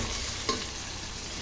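Green chilies frying in a pan are stirred, a soft, continuous sizzle with one brief scrape of the spatula, quiet and close.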